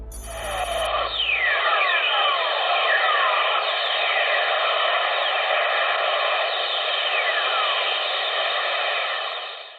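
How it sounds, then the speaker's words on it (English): Whistlers from lightning, picked up by spacecraft above Earth's ionosphere, sound as several descending whistling tones sweeping over a steady hiss and harmonic hum, with a short burst of noise at the start. "This is what lightning sounds like on Earth from space as detected by spacecraft above Earth's ionosphere."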